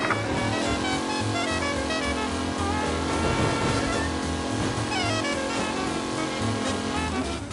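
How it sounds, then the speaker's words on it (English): A race car engine in the video game Mafia roars continuously with revving and gear shifts, loud and close, mixed with a music track in the background. "Be alert for a race car out on the roads tonight."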